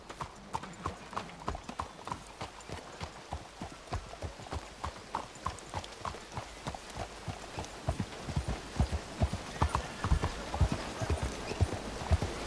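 Horse hooves clip-clop in a steady walking rhythm in the video game Red Dead Redemption 2, getting louder and closer toward the end, with faint background sounds.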